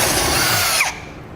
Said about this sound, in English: This is a fairly difficult metal to drill through, this cross member